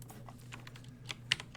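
Quick, quiet keystrokes on a computer keyboard as a folder path is typed, a handful of soft clicks over a low steady hum.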